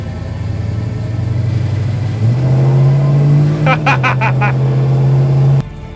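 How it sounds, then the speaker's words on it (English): A 1970 Dodge Charger R/T muscle car's V8 rumbles loud and close, rising in pitch as it revs, then settles back to a steady idle before cutting off abruptly. "This is the Fast and Furious Charger."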